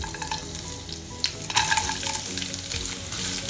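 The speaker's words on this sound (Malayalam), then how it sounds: "ഈ സമയത്ത് നമുക്ക് അരിഞ്ഞു വെച്ചിട്ടുള്ള തേങ്ങാക്കൊത്ത് ചേർക്കാം." Chopped coconut pieces fry in melted ghee in a pan while being stirred for a banana snack. The sizzle is close and steady, and scraping stirs surge louder about halfway through.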